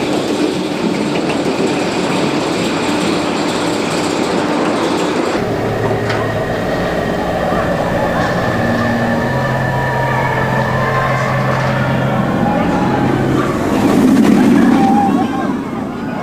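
Front-row ride on the Swarm roller coaster at Thorpe Park, a steady loud rumble of wheels and wind roaring throughout, with a low droning tone and a brief surge in intensity near the end.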